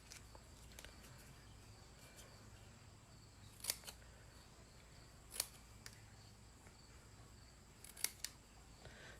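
Scissors snip through card stock during a card-making session, a few sharp, isolated cuts spaced seconds apart against a very quiet room.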